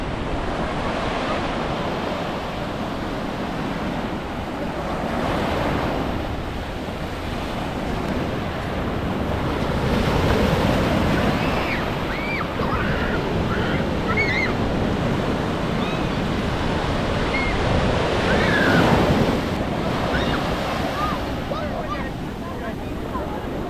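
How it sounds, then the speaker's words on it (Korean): Ocean surf rolling onto a beach, with steady broadband wash and swells building louder around the middle and near the end, wind buffeting the microphone and faint voices underneath. "파도 잘 봐야 돼"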